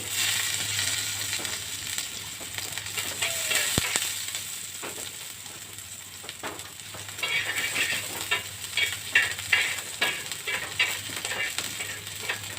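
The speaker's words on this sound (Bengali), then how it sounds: "রসুনটাকে ভালো করে নেড়েচেড়ে একটু ভেজে নেব" Chopped garlic sizzles in a pan while being stirred for restaurant-style white sauce pasta, a close, continuous frying hiss broken by rhythmic scraping and clinking strokes, with a single sharp tap partway through.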